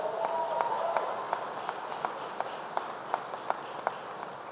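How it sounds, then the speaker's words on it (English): Applause from an audience of servicemen and women in Jacksonville, Florida, honoring two congressional representatives; a steady wash of clapping with a few sharper claps standing out, heard from a moderate distance. "Give them a big round of applause right here."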